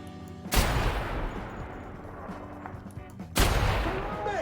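Two heavy gunshot blasts from The Outer Worlds, about three seconds apart, each loud and booming with a long rumbling tail, over a low game ambience with no talk.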